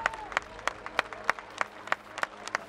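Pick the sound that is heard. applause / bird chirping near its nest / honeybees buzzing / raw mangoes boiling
applause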